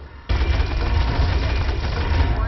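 Gunfire in Hammerfight erupts suddenly after a short quiet moment, then holds as a dense, loud, rapid volley to the end.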